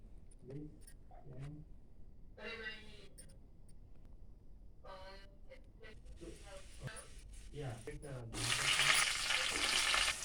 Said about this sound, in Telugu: పోపు అయితే ఫ్రై అవుతుంది